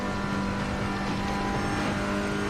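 Race cars in a racing video game run along Conrod Straight at Bathurst, giving a loud, continuous engine drone with steady tonal whine for a few seconds, no talk.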